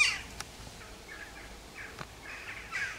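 Birds call outside, faint and distant, several scattered short cries over a quiet background with no talking.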